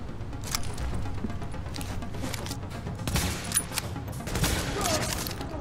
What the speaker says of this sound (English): that's a mighty powerful headshot